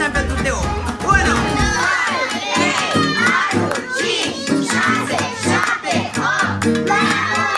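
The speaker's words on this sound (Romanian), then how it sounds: "Numărăm până la 8 și strigăm tare" A big crowd of children shouts loudly together at a girl's birthday party with around a hundred guests, a sustained chorus of cheering voices that fills the whole stretch, with an adult voice mixed in.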